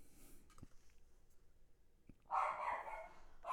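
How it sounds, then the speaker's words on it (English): A dog barks indoors with one loud, close burst after a quieter stretch of small clicks and knocks, then starts into another bark at the end. "My dog's going nuts."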